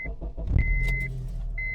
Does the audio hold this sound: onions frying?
no